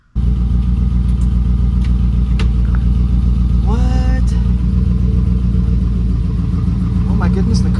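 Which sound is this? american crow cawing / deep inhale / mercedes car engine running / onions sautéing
mercedes car engine running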